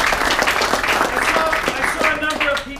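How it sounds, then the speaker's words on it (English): Audience applause for a guest speaker at a technology meetup talk, a steady wash of clapping filling the room for about three seconds with faint voices and tones mixed in. "I want to give a great big round of applause to Dr."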